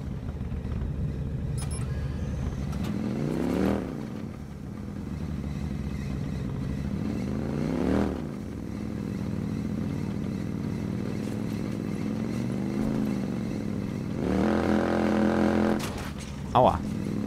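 A motorcycle engine in the video game Watch Dogs, droning steadily and swelling into revs with pitch sweeps, under a game soundtrack, with a sharp clatter near the end.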